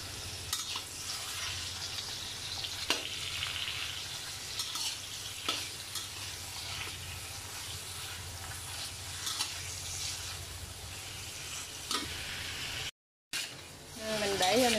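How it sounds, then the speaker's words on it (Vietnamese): Mushrooms stir-fried in a pan for a vegetarian noodle soup, with steady sizzling and scraping stirs throughout, occasional utensil clinks, and a brief quiet break near the end. "bây giờ mình sẽ để nấm vô xào"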